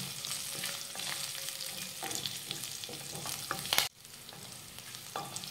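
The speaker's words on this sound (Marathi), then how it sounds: "आता ही मिरची तेलामध्ये परतून घेऊया।" Green chillies and a pinch of asafoetida sizzle and crackle in hot oil, with steady frying and stirring scrapes close by, a sharp clatter near the end and then quieter sizzling.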